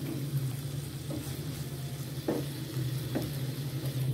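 Chicken pieces frying in a pan while being pressed down to dry out their juices, for a tikka pizza topping, giving a steady close sizzle with a few scraping stir strokes, no talking.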